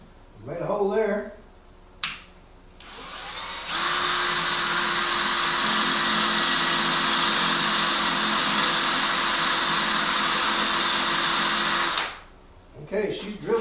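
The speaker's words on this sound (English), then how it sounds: "Okay, she's drilling." Craftsman 19.2V cordless drill boring a hole, a loud steady whine held for about eight seconds, starting and stopping abruptly, with brief voices before and after.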